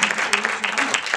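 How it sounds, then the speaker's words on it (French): Brief burst of audience applause at an evening media awards ceremony in France, a short patter of clapping mixed with a voice speaking over it. "merci d'accueillir, de nous applaudir Bernard Guetta"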